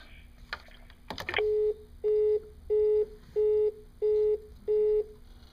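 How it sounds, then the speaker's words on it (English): Keypad presses on a 2N IP Helios SIP door phone give a couple of sharp clicks, then a row of six evenly spaced, steady electronic beeps, each about half a second long, clear and close with no voices. "I could just go to the keypad of the phone and allow access via DTMF tones from the keypad."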